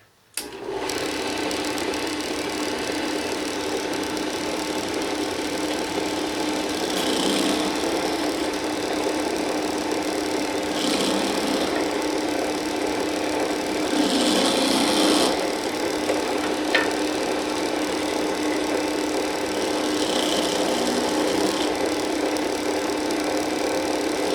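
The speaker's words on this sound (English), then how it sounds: "I'm going to use that to drill through the leather" A steady mechanical whir of a small motor running continuously and loudly, with a few brief surges in pitch as the bit bores through leather.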